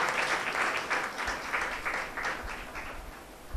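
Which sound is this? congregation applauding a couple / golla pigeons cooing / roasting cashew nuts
congregation applauding a couple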